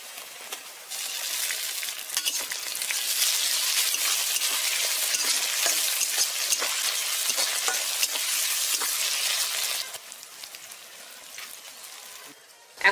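Tomatoes frying and being stirred in hot oil for a Bengali boal fish curry: a steady, loud broadband sizzle that runs for about ten seconds, then drops to a softer crackle.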